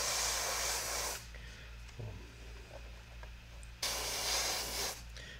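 An airbrush sprays paint through an Artool stencil with loud, airy hissing bursts, two long sprays separated by a quieter pause with faint handling noises, over a low steady hum.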